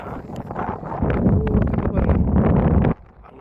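Wind sweeping across an open sandy stretch beside a highway roars into the microphone as a loud, continuous rumble that swells midway and then abruptly drops to a quieter hiss near the end.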